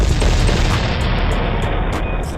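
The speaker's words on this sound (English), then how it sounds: "Fire the cannons." Cannon fire sound effect at a Tampa Bay Buccaneers touchdown celebration: a heavy, sustained booming volley with loud low rumble and several sharp cracks layered on top, fading slightly over two seconds.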